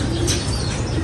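Pet pigeons cooing close by, soft low murmuring coos over a busy background of chirps and rustling from the flock.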